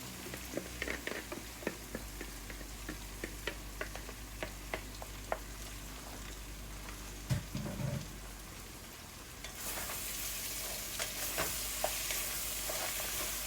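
Seasoning cooks down in a hot pan with a soft, steady sizzle, scattered light crackles and pops, and one brief stir, close but quiet; the frying hiss brightens toward the end.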